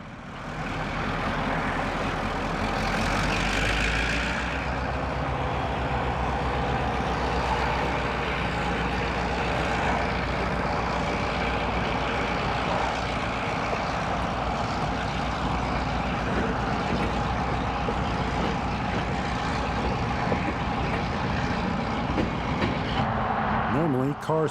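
Idaho Northern & Pacific Railroad train led by locomotive 4608 on the Joseph Branch, a steady low diesel rumble and rolling drone running continuously and fairly loud throughout.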